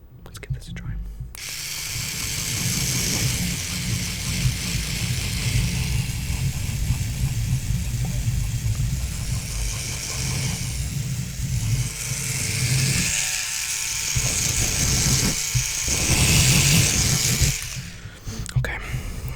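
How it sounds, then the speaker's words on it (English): Right against the microphone, a facial cleansing brush buzzes with a close, gritty whirr that rises and falls as it swirls, stopping briefly near the start and end. "It's a cleansing brush for your face, and I actually do use it. But it makes some really great sounds."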